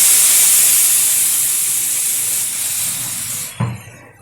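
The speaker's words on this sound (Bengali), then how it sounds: "এখন দিয়ে দেবো এর মধ্যে পরিমাণ মতো জল।" Water poured into a hot pan of fried rice and lentils bursts into a loud, steady steam hiss that slowly fades over several seconds, then cuts off with a soft clunk.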